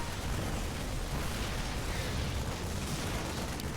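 A Terran army destroys a Protoss base in StarCraft, a dense, continuous roar of explosions and blasts at steady, loud level with no pauses.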